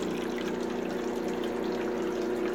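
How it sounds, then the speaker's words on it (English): Water trickles down a small sluice and over a little waterfall in a setup for sluicing IC chips, a steady close burble and splash with a low pump-like hum beneath, continuous and unbroken. "so the water will travel down here. And then around this little waterfall here."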